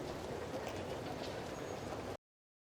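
Steady rumbling ride inside a train heading toward Shinjuku Station in Lost Judgment, a constant low drone of wheels and carriage noise that cuts off abruptly near the end.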